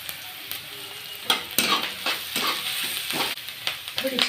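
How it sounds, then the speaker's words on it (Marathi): Curry leaves fry in hot oil in a pan, giving a soft sizzle broken by repeated scraping stir strokes at a steady rhythm. "कढीपत्ता घालूया थोडासा"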